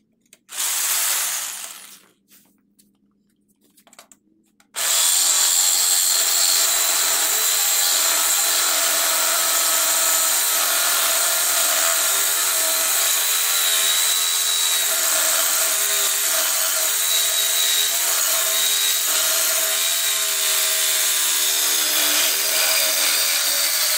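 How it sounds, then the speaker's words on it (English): A power tool blade cuts the flange off an LT1 turbo exhaust manifold. After a short burst and a pause, it settles into a loud, continuous high grinding whine up close that runs on unbroken. "We're going to start by cutting this flange off the manifold, and we'll just see how much it moves"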